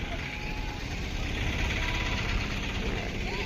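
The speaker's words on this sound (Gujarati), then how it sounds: "હા જો રિક્ષા પણ ચાલુ છે." An auto rickshaw engine runs with a steady rough rumble and vibration near a seaside road to a hilltop temple, under a busy outdoor background.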